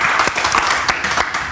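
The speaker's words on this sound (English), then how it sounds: "Can I give you a round of applause?" A short burst of lively applause, loud and close, rings out in a radio breakfast show studio.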